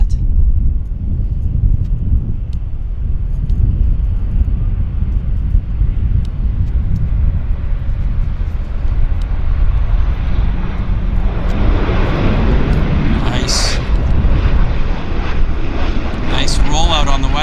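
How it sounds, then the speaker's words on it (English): WestJet Q400 turboprop airliner landing at Vancouver airport, a steady broad engine roar that holds throughout and swells toward the end as the aircraft rolls out, with wind rumble close to the microphone. "As I said, there was a whole flurry of Q400s coming in. And they are indeed coming in."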